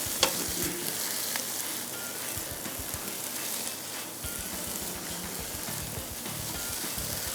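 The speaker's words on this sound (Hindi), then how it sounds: "ये सारे वेजिटेबल्स ऐड करने के बाद इसको हल्का सा स्टर फ्राई करेंगे" Mixed vegetables such as beans and capsicum stir-frying in a pan for fried rice, giving a steady loud sizzle with occasional scrapes and taps of stirring, close and unbroken, no speech.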